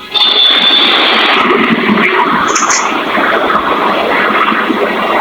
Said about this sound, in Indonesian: Jadi ada salah satu pesawat mendarat, pesawat jet itu kan.